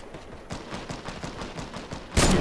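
A Fortnite sniper rifle fires as one loud, sudden blast near the end, after a run of rhythmic, muffled game thuds.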